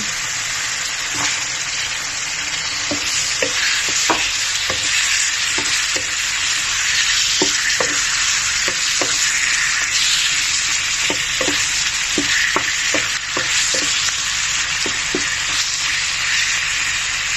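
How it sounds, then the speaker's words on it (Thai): Catfish stir-fried in spicy curry paste, a loud constant sizzle close up with frequent sharp clacks and scrapes of a spatula against the pan. "ผัดเผ็ดปลาดุกเอาปลาดุกลง"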